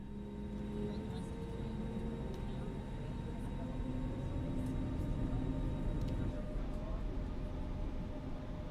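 Jet engines of a FlyByWire A32NX airliner in Microsoft Flight Simulator spooling up for takeoff, a continuous loud low roar with steady whining tones, no speech over it.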